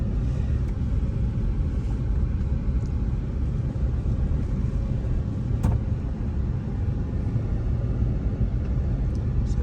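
Steady road traffic of cars and tro-tro minibuses on a road in the outskirts of Accra, Ghana, gives a continuous loud rumble with no breaks and no speech.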